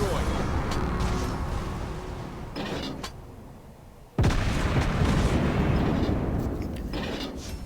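Naval gunfire and explosions from the World of Warships Blitz video game, with a USS Cleveland cruiser firing, form a dense, continuous roar of booms, with a sudden loud blast partway through and a voice speaking over it.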